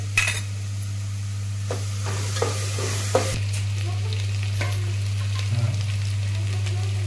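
Onion fries in a pan until browned, with a steady close sizzle and a few scattered utensil taps under a constant low electrical hum.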